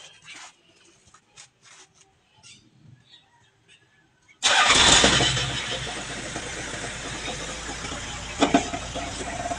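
A Toyota Granvia engine is cranked and starts. Quiet shuffling comes first, then a sudden loud catch that settles into a steady near idle.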